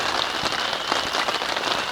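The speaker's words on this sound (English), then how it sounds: "that rain on the tent" Heavy rain drums steadily on the fabric of a hot tent at an overland Jeep campsite, a dense, continuous patter with scattered louder drops and no talking.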